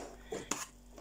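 Dishes and cutlery handled while washing up in a home kitchen: a few quick clinks and clatters of plates and utensils close by, with quiet background in between.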